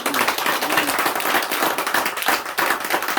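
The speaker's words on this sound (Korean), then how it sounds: "우리 두 친구들에게 박수 한번 해보겠습니다" Church congregation at a Sunday afternoon service clapping together for two young friends, a close, lively burst of many hands in a busy, slightly uneven rhythm.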